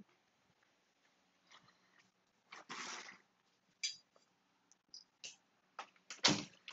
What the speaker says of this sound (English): Sorry, gotta close the door.